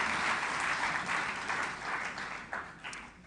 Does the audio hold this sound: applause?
yes